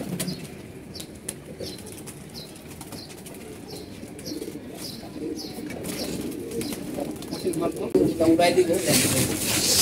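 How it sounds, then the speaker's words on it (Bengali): Pigeons released from a loft, soft cooing at first, then a burst of wing flapping that grows louder near the end as the birds take off, with someone talking over it. "আমাদের কবুতর গুলো আমি ছাড়বো, ছাড়া উড়াবো।"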